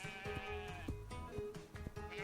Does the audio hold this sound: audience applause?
no